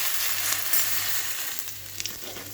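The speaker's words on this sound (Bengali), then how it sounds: "সেই তেলে আমি একটুখানি জিরে ফোড়ন দিয়ে দেবো।" Cumin seeds sizzle in hot oil left over from frying fish for a fish curry, a steady, close, bright crackling hiss that runs throughout with small pops and no voices.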